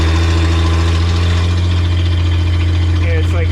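A 1982 Econoline van, stuck in high gear, drives with a steady low engine drone and deep rumble throughout, a faint whine rising near the end, with voices talking over it.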